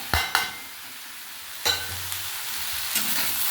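Fenugreek greens with potato, eggplant, salt, turmeric, chilli and cumin powder fry in a pan, a soft steady sizzle punctuated by a few sharp spatula knocks and scrapes as the mixture is stirred.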